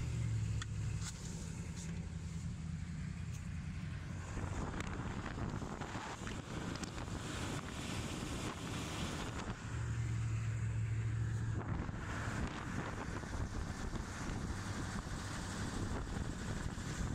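A military HMMWV Humvee, a camo slant-back GMV with a full turret, rolls along with a steady low engine and road rumble, wind buffeting the microphone throughout.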